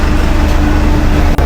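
An arriving shuttle bus on a road in Sorsogon or Albay, Philippines, gives off a loud, steady low engine rumble close by. There is a brief dropout near the end.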